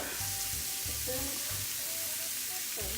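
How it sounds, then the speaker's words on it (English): Hamburger patties sizzle loudly in a hot pan, a steady crackling hiss that continues throughout with a few light clinks underneath. "See that sizzling?"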